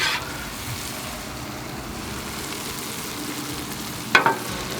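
A steak seasoned with Kinder's Steak Blend sizzles on a Blackstone griddle, a soft steady hiss throughout, broken near the end by a couple of sharp scraping clatters.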